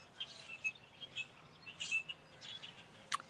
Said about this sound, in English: These birds stay out this way.